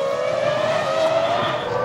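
A Formula 1 car at the 2004 season spins off the track, its engine note holding a steady high whine with a slight pitch sweep, loud and continuous with no voices.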